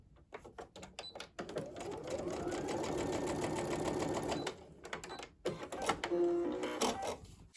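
A sewing machine stitches quilt fabric squares with a 1/4-inch seam, a close, quiet, rapid mechanical whirring in short bursts with pauses between runs.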